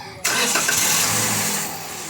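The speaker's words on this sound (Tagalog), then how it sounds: "pwede ko na ngayon pa-start itong makina." A Toyota Avanza engine, noisy from a late oil change, cranks and catches abruptly, then settles into a loud, steady idle that continues to the end.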